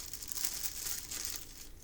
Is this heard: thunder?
no